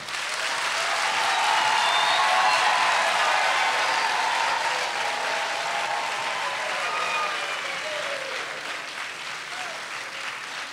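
Women in a concert audience at a Kimbanguist music performance at the Institut Français in Brazzaville clap in loud, sustained applause that swells early and then slowly thins, with a few voices mixed in.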